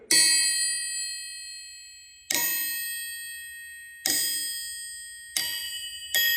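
Struck 4340 steel Mopar crankshafts ring out with a bright, sustained ding, four or five separate strikes spaced a second or two apart, each decaying slowly, close and alone.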